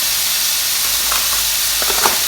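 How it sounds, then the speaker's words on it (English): Chicken searing in a hot pan gives a steady, close sizzling hiss with a few brief louder crackles near the end, no talking. "The chicken is sealing off quite nicely"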